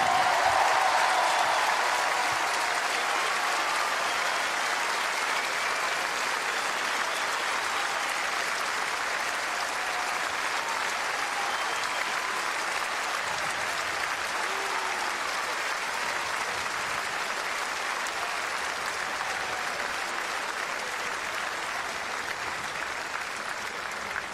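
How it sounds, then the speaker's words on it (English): A stadium crowd applauds the finalist at the 2010 Open de Nice Côte d'Azur tennis final, a dense, sustained wash of clapping that holds steady for over twenty seconds and slowly eases slightly. "J'aimerais qu'on applaudisse Fernando Verdasco également."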